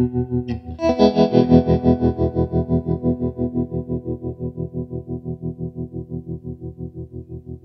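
A guitar chord rings through an Orange TremLord 30 amp with tremolo at full depth, the volume throbbing rhythmically as the chord slowly fades out.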